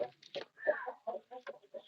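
A hen with newly hatched chicks clucks in a series of short, soft, uneven calls, fairly quiet and close.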